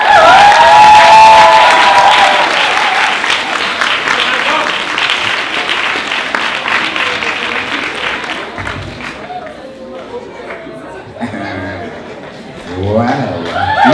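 A big round of applause from an audience, loud dense clapping with some cheering that gradually thins and fades, with a few voices and shouts emerging near the end.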